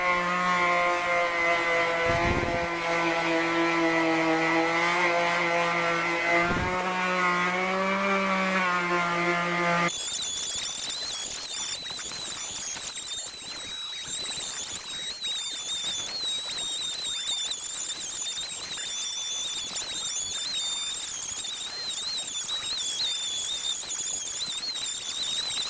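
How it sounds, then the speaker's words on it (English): Sanding a magnesium wheel rim by hand with 80 grit sandpaper: steady, continuous abrasive rasping close up, with a tonal buzzing hum over the first ten seconds before the scratching carries on alone. "I'm gonna get another 80 grit sandpaper"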